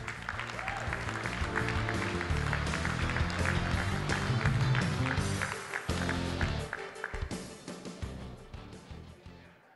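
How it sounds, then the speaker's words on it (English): Sustained applause from a large crowd, steady and dense, with music playing underneath before it slowly thins out. "Let's give them one more round of applause."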